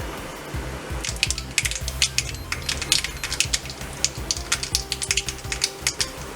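Mustard seeds and urad dal splutter in hot coconut oil in a kadai, a close, irregular burst of sharp crackles and pops that grows busier and keeps popping over a low background hiss.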